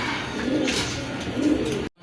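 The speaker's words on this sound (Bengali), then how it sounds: "এখানে কিন্তু আরেক জোড়া কবুতর আছে গিরিবাজ খুবই সুন্দর সিলভার টাইপের কবুতর" Silver Giribaz pigeons give two soft, low coos close by over a light background hiss, cut off abruptly at the end.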